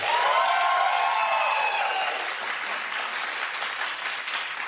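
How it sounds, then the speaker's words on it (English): A studio audience at a daytime talk show claps and cheers loudly as a show-of-hands vote on who should open the show, a dense burst of applause with whoops that settles into steady clapping. "Clap if you think Nicki should open the show."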